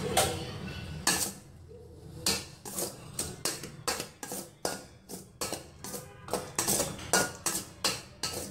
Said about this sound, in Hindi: तो ये जो थोड़े से मैंने चावल बचा लिए थे उनमें अब मैं शामिल करूँगी ज़र्दा रंग और इनको मैं करूँगी मिक्स